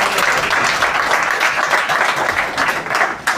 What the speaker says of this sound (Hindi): अगर आपका हाँ है तो आप जोरदार तालियां।